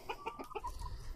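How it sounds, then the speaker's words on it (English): Chickens peck at the ground outdoors after the snow has gone. A quick run of soft, short clucks and a tiny sneeze-like burst come close but quiet. "Oh, we got a chicken sneeze."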